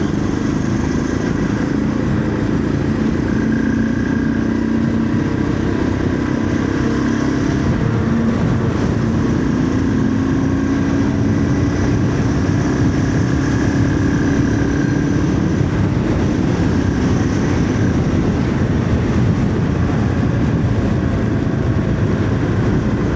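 Steady road and engine noise from a vehicle driving the highway from Madurai to Hosur, continuous and loud throughout with a constant hum and rushing wind, no voices.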